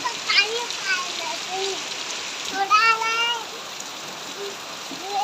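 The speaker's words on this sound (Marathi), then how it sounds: "आज 30 जूनला पाऊस आलेला आहे" Steady rain patters outdoors on the last day of June, a soft even hiss running throughout while someone talks over it.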